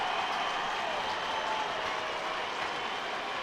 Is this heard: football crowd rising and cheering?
yes